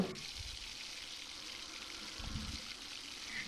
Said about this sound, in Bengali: আমি আরেকবার ভালোভাবে নাড়িয়ে চাড়িয়ে মিশিয়ে আবারও কিছুক্ষণের জন্য ফুটতে দেব